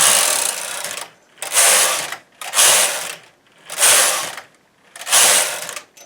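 A knitting machine knits rows of waste yarn, its carriage making five loud, evenly spaced swishing, clattering passes of about a second each with short silent gaps between them.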